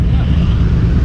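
A Harley motorcycle runs close by on a lake run alongside Can-Am Ryker three-wheelers, giving a loud, steady, rumbling engine drone that fills the whole moment. Voices may be mixed in with the engine noise.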